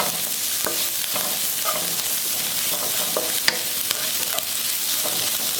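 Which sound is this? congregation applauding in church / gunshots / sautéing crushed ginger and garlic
sautéing crushed ginger and garlic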